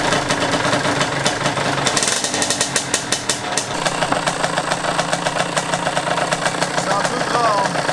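A Yamaha DT motorcycle engine with worn crankshaft bearings idles loudly and close, a rapid rattling knock throughout, with a faint voice speaking underneath.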